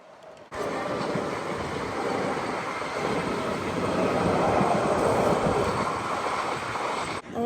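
A train rumbles past nearby with a steady, loud roar of wheels and rushing air that builds slightly and holds for several seconds.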